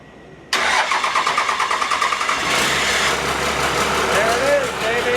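650hp Cummins diesel swapped into a 1957 big rig cranks in rapid pulses, then catches and settles into a loud, rumbling idle close by, with people talking over it.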